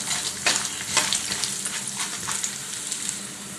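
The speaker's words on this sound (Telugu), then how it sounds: "అలాగే మినప్పప్పు ఆవాలు వేసి ఫ్రై చేసుకోవాలి" Urad dal and mustard seeds frying in hot oil while ragi upma is being prepared, giving a steady moderate sizzle with scattered sharp crackles and pops and no voices.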